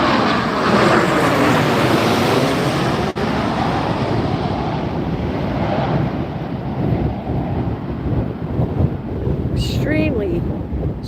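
A jet landing in a strong crosswind at Las Vegas roars loudly through blustery wind, its engine noise sweeping and shifting, with heavy wind buffeting throughout and a brief rising whine near the end.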